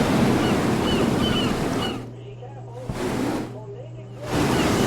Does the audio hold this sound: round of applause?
no